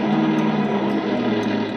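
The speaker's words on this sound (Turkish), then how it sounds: "Jip giderken böyle ses çıkarır." A steady, loud engine rumble of a vehicle driving along, constant and unbroken, with no voices.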